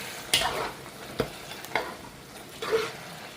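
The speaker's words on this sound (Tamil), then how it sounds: "கருவேப்பில் திருப்பி சேர்த்துருக்கேன் நல்லா இதை கலக்கிக்கலாம்" A spoon stirs chicken curry and curry leaves in a frying pan over a soft sizzle, making a few distinct scraping strokes spaced about a second apart, close and moderately loud.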